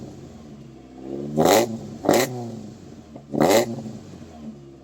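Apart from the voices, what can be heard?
Toyota MR2 AW11 engine revving with new exhaust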